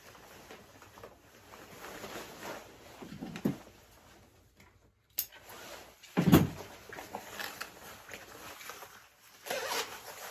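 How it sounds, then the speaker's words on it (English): The zippers on Sitka hunting bibs are pulled down in a few short, close rasping bursts, spread across about ten quiet seconds with faint handling rustle between them and no talking. "you can just drop those bib zippers down a little bit."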